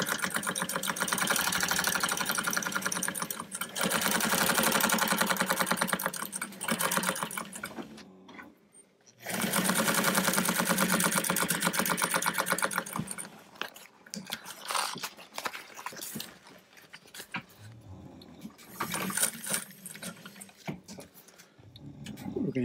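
Sewing machine running nearly continuously to stitch up a swag on a French fashion princess dress at a quarter-inch seam, close and steady with one brief pause midway, no voices present.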